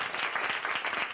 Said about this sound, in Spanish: Un aplauso para Yamarí.